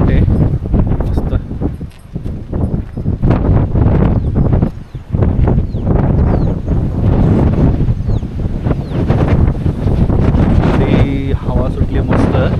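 Monsoon wind at the Pabe ghat viewpoint above the pass near Velhe, buffeting the microphone in loud, continuous rough gusts for the whole stretch.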